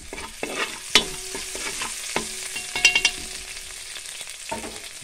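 Tomatoes sautéing in a pan for a tomato and egg dish, a close sizzle broken by repeated sharp scrapes and clinks of a spatula stirring, busiest near the middle, no talking.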